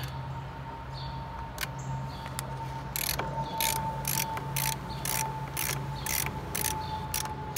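Ratchet wrench loosening a half-inch nut on a battery's negative terminal during a generator controller reset, giving a run of regular, fairly close clicking bursts over a steady low hum, with no talking.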